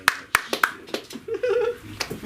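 An audience at a comedy show gives a few scattered, sharp claps that taper off, as a voice speaks over and between them.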